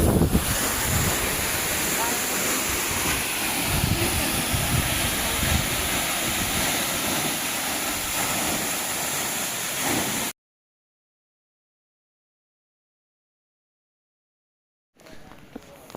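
The Phung Phung Jharana waterfall near Ranipauwa in Nuwakot gives a steady, loud, broadband rush of falling water with wind buffeting the microphone. It runs for about ten seconds, then cuts to silence before the roar returns briefly at the end.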